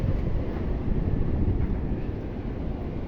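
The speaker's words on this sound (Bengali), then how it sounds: "বাতাসের শব্দ মনে হয় আপনারা শুনতে পাচ্ছেন" Strong cyclone wind in Pabna district roars steadily across the whole stretch, a dense low rumble that buffets the microphone without a break.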